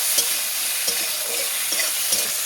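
Onion frying in a pan while being stirred, a steady loud sizzle with a few soft spoon scrapes at regular intervals, close and alone without any voices.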